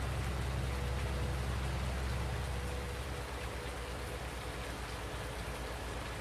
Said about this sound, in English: Can't believe it's still raining.